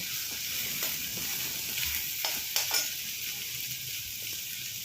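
Ginger garlic paste and tomato sautéing in hot oil for a horse gram kurma, a steady close sizzle with occasional stirring scrapes and small pops throughout.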